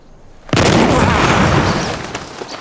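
A single booming gunshot, as loud as a cannon, fired outdoors at a tree, cracks in sharply and leaves a long rumbling decay with no voices over it.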